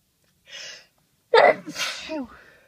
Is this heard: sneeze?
yes